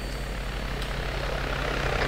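A helicopter flies in the military video game Arma 3 on the Altis map, its rotor and engine making a steady, continuous droning rumble that stays close and even throughout.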